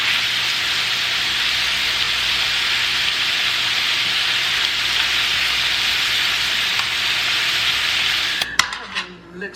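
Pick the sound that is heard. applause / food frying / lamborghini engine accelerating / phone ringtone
food frying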